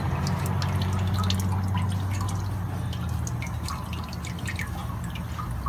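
Oil drips steadily after the filter comes off a 2015 Honda Civic Si during an oil change, a continuous patter of small drops over a low rumbling background.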